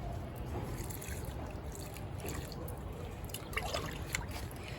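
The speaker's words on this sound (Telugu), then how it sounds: "ఇప్పుడు నేను ఒక్కొక్క గ్లాసు ఈ చెట్లకి ఇస్తున్నాను ఇలాగా" A glass of homemade liquid fertilizer pours onto rose plants in a garden bed, making a close, continuous splashing trickle that lasts several seconds.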